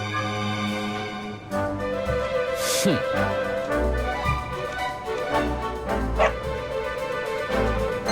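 Dog barking in the Dragon Quest XI video game, a few yips and bow-wows rising over steady game music, fairly close and clear.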